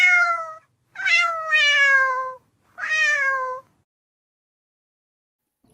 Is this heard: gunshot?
no